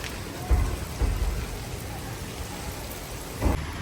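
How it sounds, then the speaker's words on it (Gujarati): Dense, steady downpour of heavy rain hissing on surfaces, with a few low thumps like distant thunder rumbling underneath. "કેટલો જોરો શોરોથી વરસાદ આવે છે"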